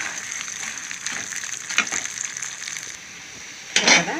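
Urad dal and cumin seeds frying in a pan, a light continuous sizzle and crackle with occasional stirring scrapes and a louder burst near the end.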